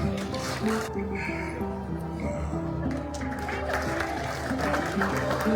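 Ululation and applause at an Ethiopian ceremony presenting the Emperor Fasilides memorial gold medal for tourism: wavering high trills over steady clapping from a gathered audience, continuous and fairly loud.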